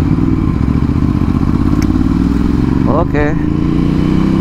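A Ducati Hypermotard 796 motorcycle accelerates on a test ride, its rough engine throbbing loudly and rising steadily in pitch, with a brief spoken word over it.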